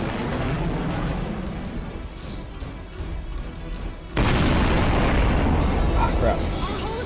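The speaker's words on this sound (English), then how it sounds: "Incoming missile!" An incoming missile striking a ship in the space strategy game Sunrider, a rumbling roar that suddenly jumps into a loud, broad explosive blast which sustains for several seconds.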